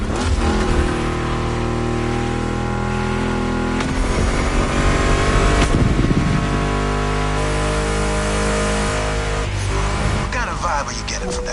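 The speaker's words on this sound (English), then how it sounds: "What are you getting from that Mustang GT?" A Ford Mustang GT engine in the racing game The Crew revs hard and steadily, a loud, continuous roar that rises and falls in pitch, with racing-game sound effects layered on top.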